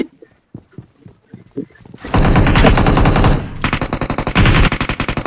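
In the mobile game BGMI, loud, rapid bursts of automatic gunfire erupt after a few quieter thuds and taps, continuing in sustained volleys with short breaks.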